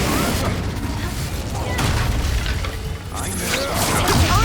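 Incendio fire spell cast in the Hogwarts Legacy video game during combat, with booming bursts and crackling impacts over a dense low rumble of game sound, loud and continuous.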